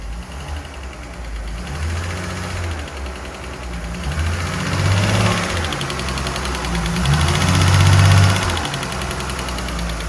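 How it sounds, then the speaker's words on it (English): A car engine under a power brake test for motor mounts rumbles loud and close, swelling through two long revs over a low idle, with no voices. "Go ahead and give it a little power brake action."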